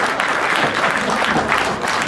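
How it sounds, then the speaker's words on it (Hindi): Steady, dense applause from an audience at a Republic Day poetry recital (kavi sammelan) in Nand Gram, Ghaziyabad, sustained and fairly loud throughout with no speech. "जोरदार ताली"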